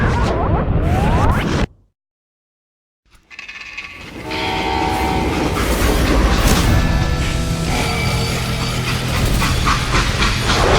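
A freight train rumbles loudly in the Western video game Call of Juarez: Gunslinger, with a whistle blast, hissing steam and heavy rolling clatter after a brief dead-silent gap, continuous and close.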